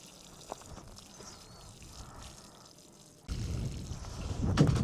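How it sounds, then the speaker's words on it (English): Water pours from a hose onto the soil around a garden fruit tree, a steady gushing that begins suddenly partway through and grows louder, following quiet near-silence with faint drips. "Let's go ahead and water it in one more time."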